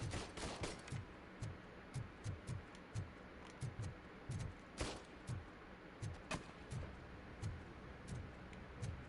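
Rapid bursts of video game gunfire at a shooting range, sharp repeated shots in an irregular rhythm with a few brief pauses, fairly close and alone with no talk.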